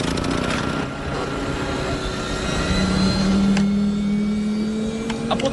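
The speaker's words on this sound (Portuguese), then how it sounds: "A potência do motor voltou." A helicopter engine restarting in a film scene, a loud steady turbine and rotor drone with a rising whine joining partway through, no voices over it.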